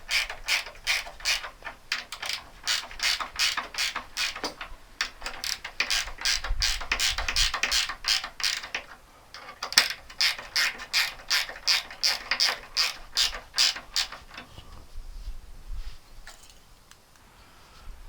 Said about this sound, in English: you tighten the bolts down to the T-nuts